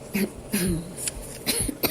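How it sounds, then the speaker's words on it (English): A few short, close coughs in quick succession, dry and rough, with brief pauses between them. "I can't get rid of this cough"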